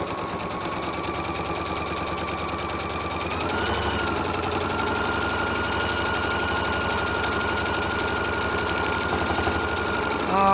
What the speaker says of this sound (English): I'm going to sew at that